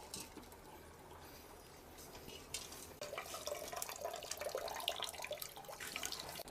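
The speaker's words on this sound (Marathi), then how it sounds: "त्यासाठी हे बियाणे फडक्यात घेऊन पाणी ओतून द्यावे" Water trickles and splashes softly for several seconds, growing a bit louder halfway through as it is poured over seeds held in cloth and drains through, for hydroponic sprouting.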